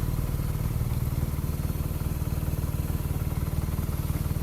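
A BMW R nineT Racer motorcycle rides along, its engine a steady, close, loud low rumble with rapid even pulsing throughout and no talk over it.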